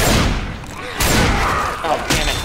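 Fireworks crackle and pop from upstairs in the zombie shooter Left 4 Dead 2, a loud fusillade of bursts with thumps roughly every second, over game noise.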